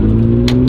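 An old Mazda RX-7 engine hums loud and close with steady low tonal drone, a brief brighter rasp breaking in near the end of the short burst.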